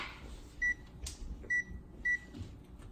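A microwave oven gives three short, clear electronic beeps as its buttons are pressed while apples are cooked for a dessert, spaced unevenly over a soft background hush with no talking.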